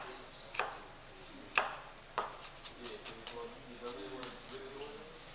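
A knife chops kiwi on a cutting board, a few sharp separate knocks followed by a quicker run of lighter taps, close and fairly quiet.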